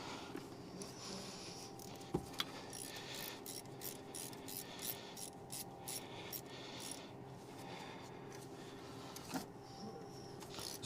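Bolt being tightened with a ratchet on an LS 5.3 V8 engine during an oil consumption fix: a quiet run of rapid ratchet clicks in bursts, with a few sharper knocks, close by.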